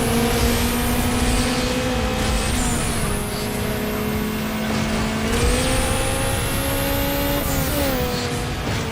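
Car engine in Need for Speed Underground on hard difficulty, revving high and over-revving through each gear shift, with steady loud engine drone and rising pitch sweeps throughout.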